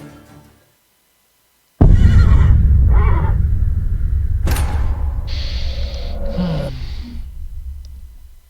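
Roach, Geralt's horse in The Witcher 3, lets out a loud, close whinny after a brief quiet gap, a rising neigh followed by snorting breaths and a trailing sigh that continue to the end.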